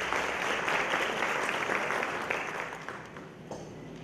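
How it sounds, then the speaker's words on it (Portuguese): An audience at a conference claps for Dr. Maria Auxiliadora as she comes to give her lecture, dense steady applause that thins out toward the end. "vamos receber com uma salva de palmas a doutora Maria Auxiliadora"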